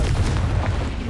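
A Confringo blasting spell goes off in Hogwarts Legacy as a single loud, rumbling explosion that fills the whole short moment with heavy booming noise.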